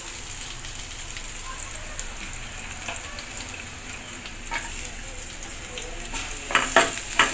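Chopped onion frying in tempered oil for a katla fish kalia, heard as a continuous crackling sizzle like light rain, with occasional clinks of a spatula stirring nearby.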